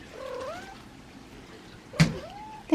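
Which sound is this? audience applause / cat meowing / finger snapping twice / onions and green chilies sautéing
cat meowing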